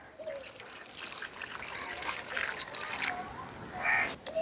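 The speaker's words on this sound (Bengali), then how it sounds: "এখন এই আলুর পর দিয়ে দেবো একটু ঠান্ডা জল।" Cold water poured over half-boiled potatoes, a steady close splashing trickle that runs the whole time with small surges near the end.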